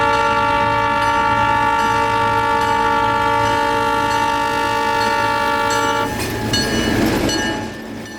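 Locomotive air horn at the Florida Railroad Museum, a single loud sustained chord blaring close by for about six seconds before cutting off into rumbling train noise.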